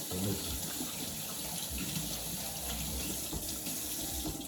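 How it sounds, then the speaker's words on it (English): Tap water runs steadily into a sink while hands are washed beneath it, a continuous close splashing rush that holds for the whole stretch with no talk. "Let me wash my hands."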